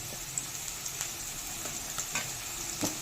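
Onions and tomato sautéing in a pan for a dried fish curry give a steady, close sizzle with occasional light stirring scrapes, no talking.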